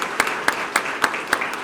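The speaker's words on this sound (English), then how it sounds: "Please give them a round of applause also." Applause at a Sarasota police promotional ceremony, heard as about six distinct, evenly spaced claps, fairly close and crisp, like a few people clapping in rhythm.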